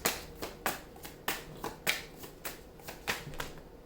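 Tarot cards shuffled by hand in a run of about a dozen crisp, sharp riffling bursts at a steady, uneven rhythm, close and clear with no talking.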